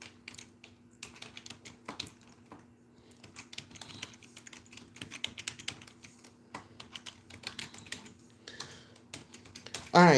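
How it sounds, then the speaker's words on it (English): Fingers tap on a computer keyboard in a steady, fairly quiet patter of keystrokes, close by and mostly without talk. "I just need to type it in."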